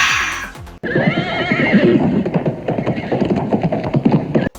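A horse neighs loudly and close by, a long whinny with rising and falling pitch after a brief pause, running for several seconds and ending with a short snort.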